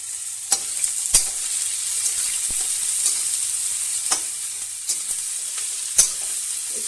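Onions frying in a pan with bay leaf, black pepper and garlic-ginger paste, a steady bright sizzle broken by occasional sharp clicks of a spoon stirring against the pan.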